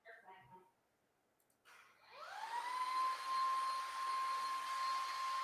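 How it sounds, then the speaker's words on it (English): A vacuum cleaner starts up after a brief quiet stretch, spinning up into a steady, loud whine that holds without a break, following a moment of faint voices. "I'm gonna use this vacuum."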